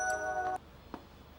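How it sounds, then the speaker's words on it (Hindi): A mobile phone rings indoors with a bright electronic tone for about half a second, then cuts off, leaving faint room sound and a couple of soft knocks. "मम्मी का फ़ोन है।"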